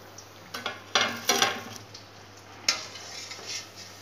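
Cabbage vada frying in hot oil, a soft sizzle running throughout with a few sharp clinks and scrapes of a metal utensil stirring and lifting the fritters from the pan.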